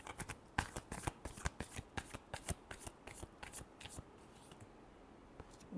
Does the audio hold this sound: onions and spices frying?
no